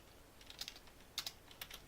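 Computer keyboard keys tapped out in two short bursts of a few quick clicks each, a command typed for the game Rust, close and fairly quiet with no talking.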